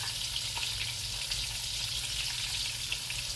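Chicken fries in hot oil with a steady, close, loud sizzle and crackle that runs unbroken throughout, with no talking.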